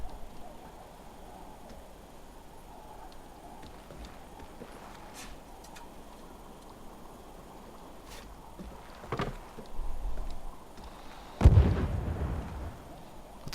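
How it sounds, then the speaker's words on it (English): Explosion in the video game The Worry of Newport: a sudden heavy boom near the end that stands out against a quiet, low ambient background, with a smaller thump a couple of seconds earlier. "It's an explosion."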